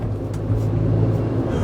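A Proton Satria climbing a steep, tight hill in low gear, its engine droning in a loud, steady low rumble heard from inside the car.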